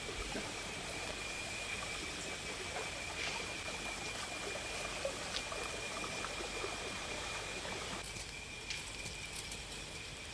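A forest stream flows steadily near a cooking spot, a continuous soft rushing and trickling of water that holds at an even level throughout, with no talk.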